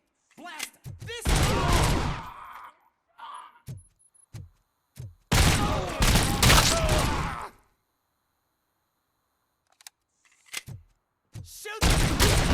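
Gunfire in the video game Robocop: Rogue City comes in loud bursts of rapid automatic shots separated by short single cracks and gaps of silence, with brief vocal sounds between volleys.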